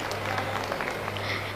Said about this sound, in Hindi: शुक्र है कुछ तालियां बज गई आपकी।